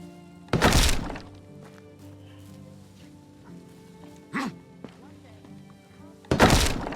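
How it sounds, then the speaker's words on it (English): A woodshed is demolished in the medieval survival game Medieval Dynasty: two heavy crunching thuds, one near the start and one at the end, with a smaller knock in between over a low ambient bed and faint background voice. "I've been meaning to destroy this extra woodshed"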